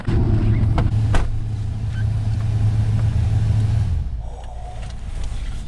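A 1997 Suzuki Escudo pulls away in severe Yakutian frost, its engine a loud, steady low drone close by that settles to a lower hum after a few seconds, with a couple of faint knocks and no talking.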